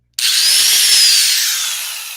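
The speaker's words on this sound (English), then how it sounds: "I'm sure it won't impress y'all to see 2 pilot holes being drilled" A power drill bores pilot holes into wood, one loud close burst of whining motor that starts abruptly and tapers slightly as the bit runs through.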